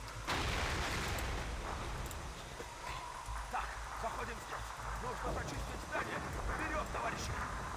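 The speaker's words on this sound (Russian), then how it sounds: "Давай посмотрим хоть на взрыв-то." An explosion in the World War II shooter Call of Duty 2 bursts out loudly near the start, then gives way to a continuing rumble of battle noise beneath excited talk.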